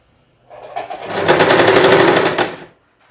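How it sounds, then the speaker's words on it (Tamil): A sewing machine stitches fabric with piping thread in one close, rapid mechanical run of about two seconds that starts and stops cleanly. "இப்படியே ஸ்டிச் பண்ணிக்கிட்டே வாங்க."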